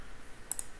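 Two quick, faint clicks of computer keyboard keys pressed in close succession for an Alt+Enter shortcut, alone against a low background hum.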